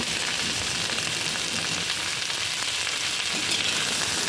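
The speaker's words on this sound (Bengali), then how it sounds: "এবার ক্যাপসিকামগুলো দিয়ে দিলাম, একটু নাড়াচাড়া করে নিলাম।" Capsicum stir-fried in a pan gives a steady, dense sizzle of frying, close and fairly loud, with no voices.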